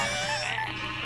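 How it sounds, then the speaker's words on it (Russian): A toad croaks continuously in the quirky video game Chuchel, a steady, close, loud croaking with no speech. "какая-то жаба"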